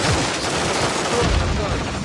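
Dense, continuous gunfire in Call of Duty: Modern Warfare 3, a loud sustained fusillade of overlapping shots and booms filling the whole stretch, with a voice faintly in the mix.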